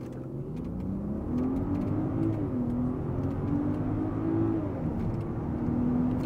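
A 2023 Land Rover Range Rover accelerates hard from a brake-boosted launch toward 60 mph, heard from inside as a steady, smooth engine drone whose pitch climbs, drops briefly at gear shifts and climbs again.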